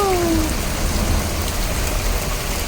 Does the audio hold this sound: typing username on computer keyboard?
no